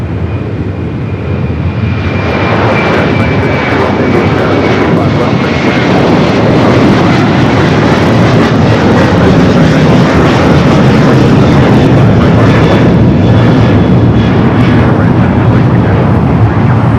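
A fixed-wing airliner takes off from runway 25 right at LAX, its engines a loud, steady broadband roar that fills the whole stretch, with a faint tone drifting down over it.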